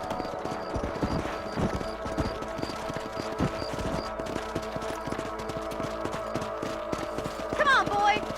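Horse hooves clip-clop at a steady riding pace in the Red Dead Redemption video game as a rider patrols a ranch property, a continuous rhythmic clatter under a busy game soundscape ending in a short whinny-like sound.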